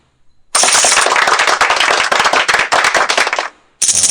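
Loud applause in an online poker game: a sharp burst of dense, rapid clapping starts abruptly and lasts about three seconds, cuts out, then briefly resumes.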